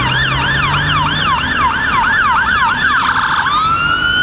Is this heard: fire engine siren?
yes